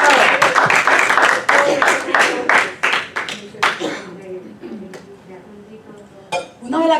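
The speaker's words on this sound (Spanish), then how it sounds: "Demos un aplauso al Señor." Church congregation clapping for the Lord, a dense burst of claps for the first few seconds that thins out, then a quieter stretch with occasional scattered claps.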